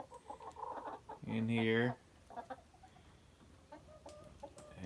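Newly added chickens settling in a coop at night, with one loud, drawn-out clucking call standing out above quieter intermittent clucks and rustling; a person speaks briefly nearby.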